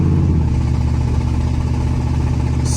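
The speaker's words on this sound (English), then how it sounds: "just listen to it downshift" A truck engine hums steadily and close by while driving, with a brief shift in pitch as it downshifts and then continues at an even, smooth drone.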